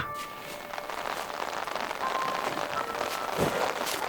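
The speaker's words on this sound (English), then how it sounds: "now the rain is coming, so I think we have to just chill in the tent for now" Steady rain patters on a tent during a camping and painting trip outdoors, a dense even hiss of drops on the fabric lasting throughout, fairly close with no speech.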